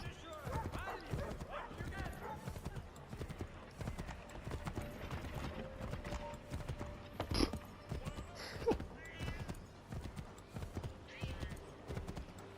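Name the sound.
horse hooves galloping, from a video game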